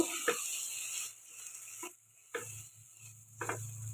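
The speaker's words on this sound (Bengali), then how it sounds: "এবার এই ডালটা আমি এতে দিয়ে দেবো পুরোটা দিয়ে এবার ডালটা আমি পুরোটা এবার নেড়ে নেব" Boiled dal being stirred in a cooking pan: a few separate scraping strokes, each a short rough burst, spaced between quiet pauses with a faint low hum.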